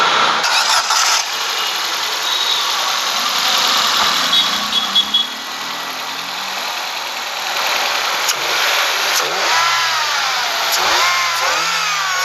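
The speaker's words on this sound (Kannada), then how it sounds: "ಇಂಜಿನ್ ಸ್ಟಾರ್ಟ್ ಮಾಡಿನೂ ಕೂಡ ನಿಮಗೆ ಕೇಳಿಸ್ತೀನಿ ಸೌಂಡ್ ಹೆಂಗಿದೆ ಅಂತ" The petrol engine of a 2013 Ford Figo ZXi, a one-owner car in very good condition, runs at a steady close-up idle with a smooth, even hum and no voices.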